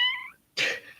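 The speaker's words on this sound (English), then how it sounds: "Oh my goodness, kitty cat." A pet cat gives a short meow indoors, close and clear, following a brief higher mewing note and a moment of silence.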